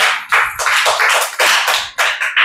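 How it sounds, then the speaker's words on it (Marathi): Children clap their hands in a classroom, several bursts of close, bright hand claps spread unevenly across a few seconds, with no talking over them. "वाजवा टाळ्या"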